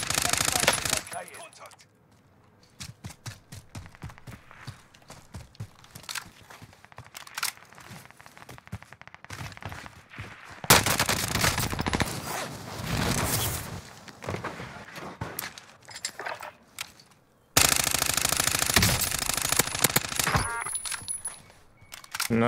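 A shooter video game rattles with dense rapid gunfire bursts, some close and loud, others thinner and farther off, forming a near-continuous clatter with short gaps.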